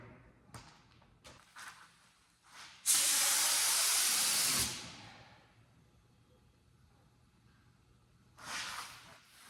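An aerosol spray can paints the underside of a car hood and splash guards, one long steady close hiss lasting about two seconds plus a shorter burst later, with a few short puffs and soft knocks around them.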